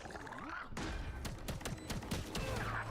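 Gunshots in the video game Valorant during a professional NRG versus LOUD match, a series of sharp, evenly spaced shots over steady game ambience, moderately loud.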